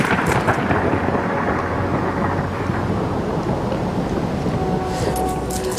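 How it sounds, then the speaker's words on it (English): Steady heavy rain falling outdoors in a French town, a dense continuous wash of drops heard close, with brief brighter spatters near the end and no talking. "Oh, it's raining."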